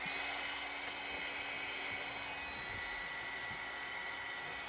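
A hair dryer blows hot air to dry a chalk transfer, a steady high-pitched whir running without a break from start to end, close and fairly quiet with no talk.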